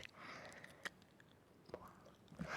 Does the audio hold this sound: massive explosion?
no